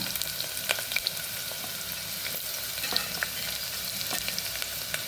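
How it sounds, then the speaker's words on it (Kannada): Sliced onions frying in oil in a pan, along with cardamom, at the start of a one-pot soya biryani. A steady, moderately quiet sizzle runs throughout, broken by small pops and scraping stirs, with no talking. "ಗೋಲ್ಡನ್ ಬ್ರೌನ್ ಆಗೋ ತನಕ ನೀರುಳ್ಳಿ ಹುರಿದುಕೊಳ್ಳೋಣ"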